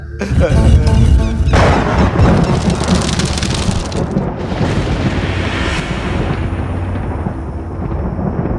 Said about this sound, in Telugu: ఒరే అవి ఉరుములురా